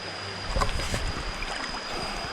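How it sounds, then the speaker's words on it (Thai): Shallow, clear stream flowing steadily past a riverside campsite, a soft continuous wash of moving water with a few light splashes near the start. "น้ำไม่ลึกมาก น้ำไหลตลอด"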